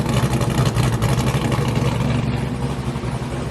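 A warmed-up, cammed, LS-swapped G-body car with full exhaust idles nearby, a loud, steady, throaty rumble with no talking.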